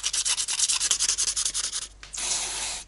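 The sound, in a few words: sandpaper smoothing a brake caliper slider bolt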